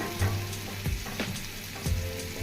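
Chopped green chili frying in a pan makes a continuous crackling sizzle, broken every half second or so by brief scrapes as it is stirred, close and fairly loud.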